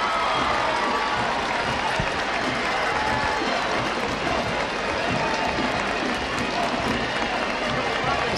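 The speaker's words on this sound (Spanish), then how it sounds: "Escucharán seguramente de fondo cómo empiezan los gritos y los aplausos." A large outdoor crowd in Oviedo shouts and applauds as the Princes of Asturias arrive for the awards, a continuous roar of clapping and cheering held at a constant loud level throughout.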